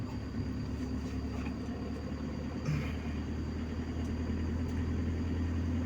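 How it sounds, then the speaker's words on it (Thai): An older-model farm tractor engine idles or runs steadily, with a continuous low rumbling drone close by and no voices. "ครับรถไถรุ่นก่อนครับ"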